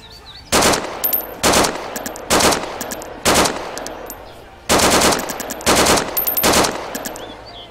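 Automatic gunfire in the video game DayZ rings out in eight loud, sharp bursts, each lasting a fraction of a second. The bursts come at a fairly regular rhythm with a short pause in the middle.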